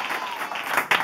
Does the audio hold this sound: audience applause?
yes